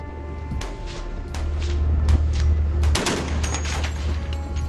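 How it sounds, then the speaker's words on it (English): Coast guard patrol vessel fires high-caliber rounds at a Chinese squid-jigging ship, heard as a string of sharp close shots over a low engine drone, with a heavier burst near the end. "The Coast Guard captain ordered his men to open fire on the Chinese ship."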